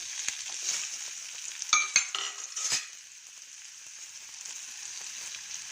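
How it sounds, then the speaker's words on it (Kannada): Onions fry in a pan with other pulao ingredients, giving a steady soft sizzle, with a few clinks and scrapes from a stirring spoon near the middle. "ಇದೆಲ್ಲ ಸ್ವಲ್ಪ ಫ್ರೈ ಆಗಲಿ. ಸ್ವಲ್ಪ ಈರುಳ್ಳಿ ಹಾಕ್ತಾಯಿದ್ದೀನಿ."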